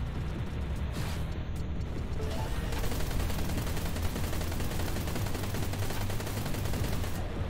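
Rapid weapon fire at turrets in the space-combat game Everspace 2, a dense, continuous loud barrage of shots and blasts with no talking.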